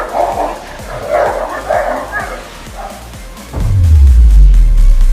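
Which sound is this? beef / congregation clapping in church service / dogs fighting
dogs fighting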